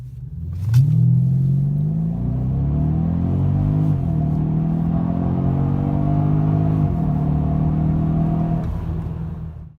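A Mercedes W212 sedan accelerates hard from 0 to 100 km/h, its engine note climbing loud and close, with two gear shifts that briefly drop the pitch before it rises again, and no voices.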